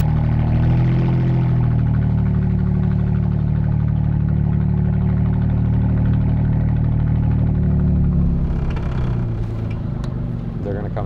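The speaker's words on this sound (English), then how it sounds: "the sound the exhaust makes kind of reminds me of like old cars" Inside a moving supercharged, AMG-swapped widebody Mercedes 300SL, the engine and exhaust drone is heard as a loud, constant low rumble. It carries on without a break and changes only slightly in pitch near the end.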